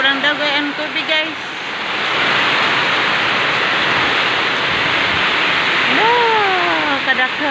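Floodwater gushing from a pipe during a flood after a typhoon, a loud, steady rushing roar that fills the scene, with someone talking over it at the start and end.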